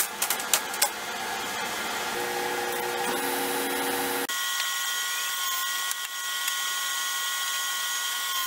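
A power saw cuts wooden tabletop pieces, giving a steady, loud whine with a pitch shift partway through and a few sharp knocks at the start, close by.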